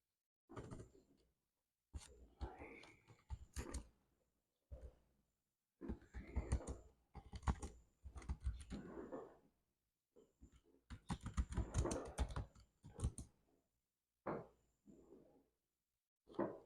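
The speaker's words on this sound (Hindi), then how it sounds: "मैं आपके सामने ही बैठकर टाइप करता हूँ" Rapid, irregular bursts of keystrokes on a computer keyboard, fairly close and clear, broken by short pauses; no talking during the typing.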